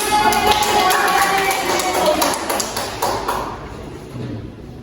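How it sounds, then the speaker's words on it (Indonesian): Applause from a classroom of students during a peer-teaching lesson, a dense, steady wash of clapping that runs for several seconds before gradually thinning out and fading toward the end. "Bagus sekali, tepuk tangan."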